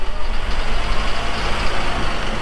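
A truck sunk in mud to the differential spins its tires, giving a loud continuous engine roar and churning whine that stays close and steady throughout, with no talking.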